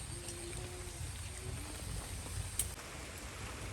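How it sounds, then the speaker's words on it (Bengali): Light rain falls outside during a rainy-day outdoor khichuri cooking session, a soft steady patter with low rumbling underneath and a faint voice in the background. "দেখেন বাইরে এখনো হালকা হালকা বৃষ্টি হচ্ছে"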